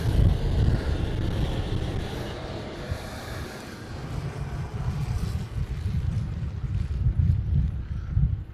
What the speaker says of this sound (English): it's very windy. So I apologize for the gusts.